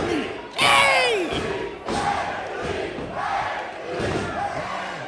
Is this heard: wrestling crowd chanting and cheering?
yes